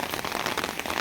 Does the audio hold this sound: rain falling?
yes